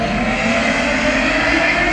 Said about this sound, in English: That's probably a car or a motorcycle.